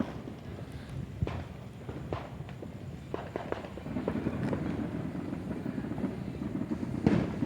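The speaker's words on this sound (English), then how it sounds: "That one's definitely a helicopter. He's doing the circling round." A helicopter circles overhead on a bonfire night in Fullerton, California, a distant rotor thrum that swells gently, with scattered footsteps and thuds close by.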